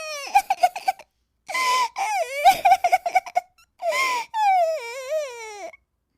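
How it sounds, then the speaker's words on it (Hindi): A high, wailing cry in a forest in a Hindi kids' cartoon, with sobbing breaks and a long drawn-out whimpering wail at the end, close and loud, with no other sounds around it. "एक दिन वो जंगल में लकड़ी बीनने गई थी कि तभी उसे रोने की आवाज आती है।"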